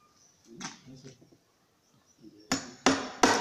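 Three loud hammer blows strike near the end, driving in a board to stabilize it, after a stretch of quieter clatter and faint voices.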